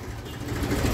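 A tractor engine runs with a low, steady rumble while its PTO shaft turns slowly, heard close and continuous for about a second.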